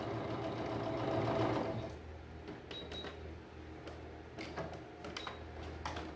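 A sewing machine stitching denim patchwork cut from jeans for a crazy-patchwork rug, whirring in a steady rapid run that starts louder and then settles into a quieter hum with light mechanical ticks, close by and without talk.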